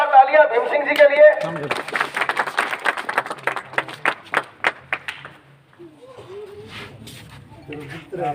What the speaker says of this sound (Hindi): लेकिन जोरदार तालियां भीम सिंह जी के लिए।